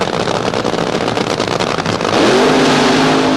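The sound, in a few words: Funny Car drag race cars accelerating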